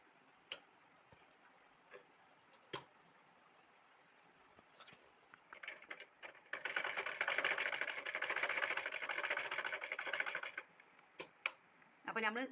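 A sewing machine stitching a yoke frock runs in a steady dense burr for about four seconds midway, framed by scattered ticks and clicks of handling the fabric before and after, close and fairly quiet.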